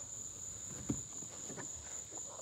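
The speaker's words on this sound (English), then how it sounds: "I think we might have gotten the cricket on camera." A cricket chirps with a continuous, steady high trill that persists throughout, accompanied by faint scattered rustles and a soft knock.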